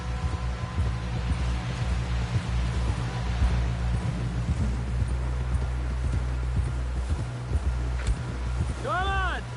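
Horse hooves clip-clopping steadily in the Western video game Red Dead Redemption 2, a rhythmic trot continuing throughout with music and voices mixed in.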